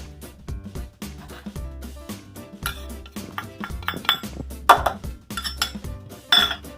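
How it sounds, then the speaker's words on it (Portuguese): A spoon stirs cornstarch into coconut milk in a bowl, clinking against the sides in a quick, uneven rhythm with sharper scrapes toward the end, close and fairly loud. "Primeiro, dá uma dissolvida nesse amido de milho"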